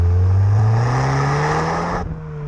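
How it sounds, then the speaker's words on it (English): 330 bhp Audi S1 driving on B roads, its engine a loud steady drone with pitch climbing as it accelerates, then a shift easing the note near the end; no talking. "let's jump back in the car and go down some B roads that way"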